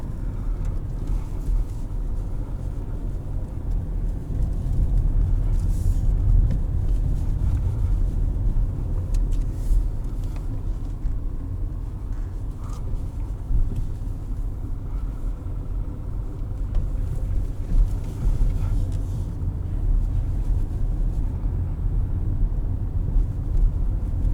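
A 2019 Nissan Sentra S heard from inside the cabin while driving over a bumpy, rough road: a steady low road and engine rumble that continues throughout at a moderate level, with small uneven thumps from the surface.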